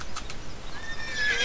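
A horse in the game Barbie Horse Adventures gives a short, bright whinny with a couple of hoof clops, loud and close, with no talking.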